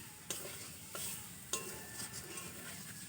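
Boiled potatoes stirred with spices in a pan, with a soft, quiet sizzle broken by three sharp scrapes or taps of a utensil against the pan.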